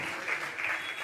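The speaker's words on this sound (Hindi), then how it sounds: "तालियां तो बजाइए आप लोग एक बार जोरदार" Audience at a Jain religious ceremony, a first abhishek after a Panch Kalyanak, claps loudly in a dense, steady wash of applause that swells slightly, with no voices over it.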